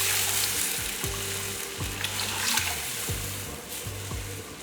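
Spices sizzle and pop in hot oil as a tempering for rasam, with asafoetida in the mix. The loud, continuous crackle comes with a few sharp clinks and stirring scrapes, close and without talk.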